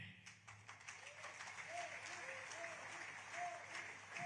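An Indian community audience in Nigeria clapping during Prime Minister Modi's speech, sustained hall-wide applause with scattered cheers and faint voices beneath.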